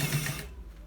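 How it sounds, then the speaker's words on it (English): A sewing machine runs briefly while stitching a shawl collar at a quarter-inch seam, giving a close, fast mechanical whir that cuts off about halfway through, followed by a quiet hum. "It's being stitched on the 1/4 inch"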